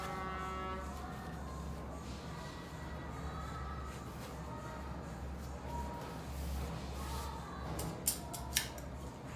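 Scissors snipping through fabric to cut the front neckline of a circle dress, steady close cutting over a low constant hum, with a few sharper snips near the end.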